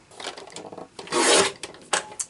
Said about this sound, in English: We're going to flip it, trim it at 10 1/4.